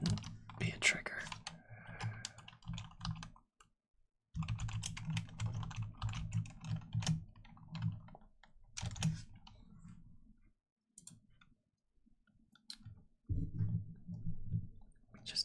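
Typing on a computer keyboard in a quiet room during an ASMR session, with bursts of soft clicking keystrokes separated by brief pauses, close and fairly quiet.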